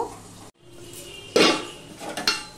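A utensil clanks and scrapes against a pan as potatoes and turmeric are mixed and fried. Three or four distinct clatters stand out over a low, steady background, with a brief silent gap near the start.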